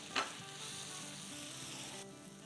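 Spices for tawa chicken sizzle in a hot pan as they are stirred together, a close, steady frying hiss with a sharp scrape of the spoon near the start and no talking.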